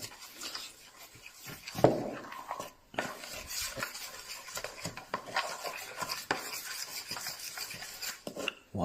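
Yogurt cake batter is stirred in a bowl with a utensil, a busy run of scraping, clinking and soft swishing strokes, fairly close and moderately quiet.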